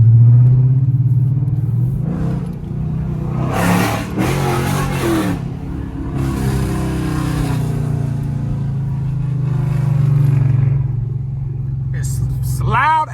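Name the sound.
Chrysler 300 5.7 Hemi car driving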